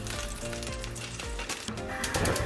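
Bacon frying in a pan, cooked on both sides, a continuous crackling sizzle under soft background music, steady and close.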